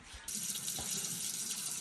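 Water fills a 100-litre boiler tank in a basement, starting abruptly and then hissing steadily like a running tap, soft and continuous until the end.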